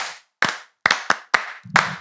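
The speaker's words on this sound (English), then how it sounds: "Clap for him." Children in a classroom clap for a classmate who answered a maths question, five sharp separate claps in an uneven burst, close and crisp with silence between, no talking.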